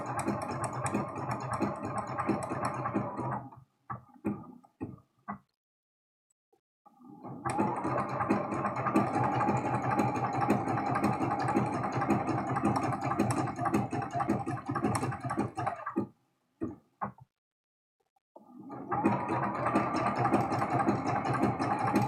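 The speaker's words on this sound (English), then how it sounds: "Just sewing all the way around." A sewing machine stitches around the edge of a paper-pieced pie quilt block in long, steady close-up runs, stopping twice for brief pauses with a few clicks before whirring again.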